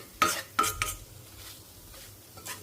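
A spoon scrapes and clinks three times in quick succession against a pan of gram flour and bitter gourd, followed by a faint sizzle and one softer stir.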